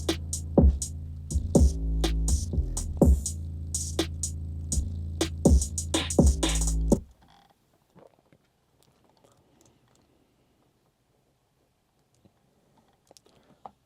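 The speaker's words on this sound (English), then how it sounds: "So the drums and the bass sound like this." Punchy drum hits over a deep bass line play for about seven seconds, then cut off into near silence with a few faint clicks.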